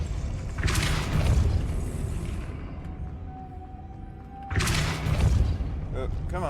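Hogwarts Legacy's Depulso spell fires as a deep booming burst, then another heavy blast a few seconds later, with a player talking over the game sounds.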